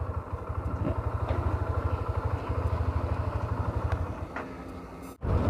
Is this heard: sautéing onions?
no